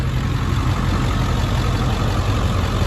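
An iced-up semi truck idles in a Texas ice storm, its engine rumbling low and steady, close and unbroken without talk.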